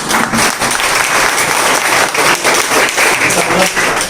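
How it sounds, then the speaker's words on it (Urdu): Applause from the audience at a naat mushaira at Darul Qur'an Al-Kareem greets two guests from Riyadh, a full, continuous wash of clapping that holds steady and loud throughout without any voices over it. "اور تالیوں سے استقبال ہو تو کوئی بری بات نہیں"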